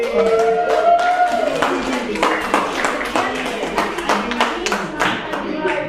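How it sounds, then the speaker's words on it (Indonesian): A classroom claps for a group of students, a burst of many hands clapping unevenly at close range, with a voice briefly heard near the start. "beri tepuk tangan untuk"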